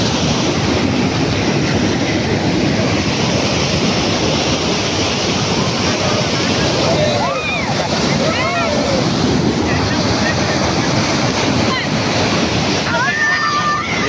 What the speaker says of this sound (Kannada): ಈ ಕಡೆ ನೀರು ಬರ್ತಾ ಇರೋದು.